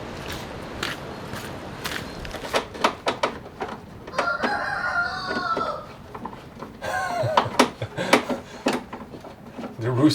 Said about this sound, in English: The rooster is hiding from the storm. He's right next to me.